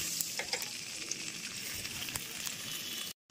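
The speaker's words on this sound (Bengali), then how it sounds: "প্রথমে এই ফুলকপি আর আলুগুলো সুন্দর করে ভেজে নেবো।" Cauliflower and potato pieces fry in hot oil in a wok, giving a steady, dense sizzle that runs almost unbroken, with one brief cut-out near the end.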